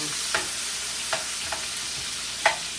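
Garlic sautéing in a pan for ginisang patola, a steady close hiss of oil with a few sharp spoon clinks against the pan at irregular intervals, no talking.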